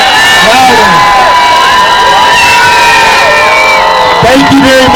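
A loud, close crowd at a march screaming and cheering, high whoops and shouts from many voices, including children, rising and falling continuously.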